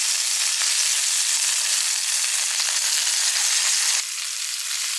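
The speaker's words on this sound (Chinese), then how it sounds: "下面咱开始放锅贴" Beef potstickers frying in a pan give off a loud, steady, close sizzle that continues without pause, dropping slightly in level partway through, with no voices.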